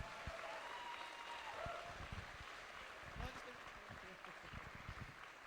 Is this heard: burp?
no